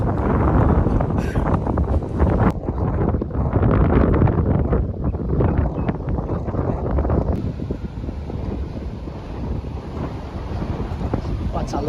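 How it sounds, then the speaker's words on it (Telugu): Steady, strong wind at a rocky beach buffets the microphone with a loud, roaring rush that continues throughout without a break. "గాలి ఇస్తున్నదిరా"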